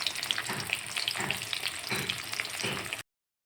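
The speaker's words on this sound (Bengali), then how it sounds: "আর এই যে কাতলা মাছ ভাজা শুরু করে দিয়েছি" Pieces of katla fish frying in a wok, a dense, crackling sizzle heard up close with faint scraping, steady for about three seconds before cutting to silence.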